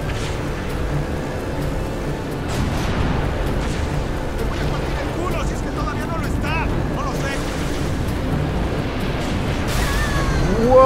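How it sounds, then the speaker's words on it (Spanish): Halo 3 gameplay with rumbling weapon blasts and explosions, heavy low-end booms and swooshing effects building across the clip, ending in a louder burst, with talk over it. "¡Qué buen disparo!"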